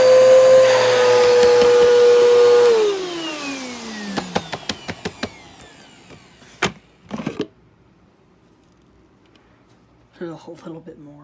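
A Bissell Power Groom deep cleaner runs loudly with a steady motor whine for about three seconds, then spins down, followed by scattered clicks, knocks and brief handling noises near the machine.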